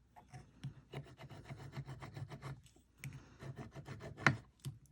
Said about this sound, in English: So here, I'm lightly sanding.